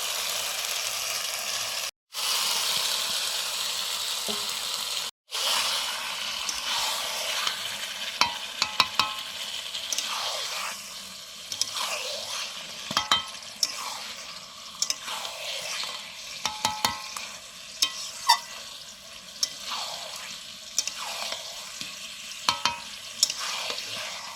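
Marinated chicken for chicken biryani sizzles and fries in a pan, a steady broad hiss opening the clip, briefly cut twice, then softer frying with scattered stirring clatters and scrapes.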